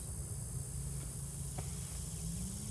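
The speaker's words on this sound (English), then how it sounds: "Lots of bees." Bees buzzing around hives at an apiary in a savanna setting, a steady dense hum that holds evenly throughout without a break.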